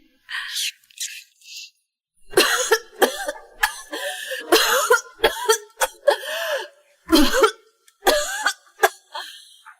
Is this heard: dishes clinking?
no